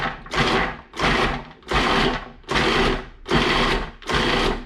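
Chickpeas pulsed in a food processor, six short whirring bursts of even length with brief gaps between them, loud and close with no talking.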